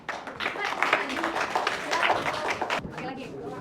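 Students in a high school classroom give a short burst of clapping, fairly quiet and brief, with voices in the room.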